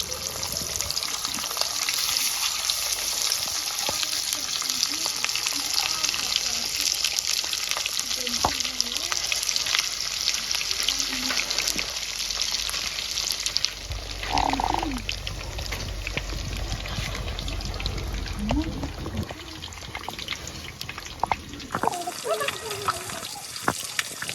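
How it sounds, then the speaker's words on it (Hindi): Pieces of fish for an old-style Kashmiri recipe fry in hot oil, a dense continuous sizzling hiss close up with occasional clinks and stirring, a voice talking faintly beneath. "इस तेल में हम फ्राई कर लेंगे फिश के पीसेस"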